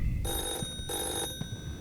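A telephone rings in a horror video game: steady electronic bell tones in two long bursts separated by a short gap, fairly loud against a low background rumble.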